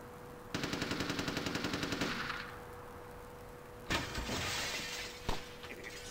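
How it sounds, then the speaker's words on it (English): A window smashes in Vampire The Masquerade Bloodlines, a fast rattling burst of breaking glass lasting about two seconds, then quieter impacts and a couple of sharp crashes later on. "He just broke that window."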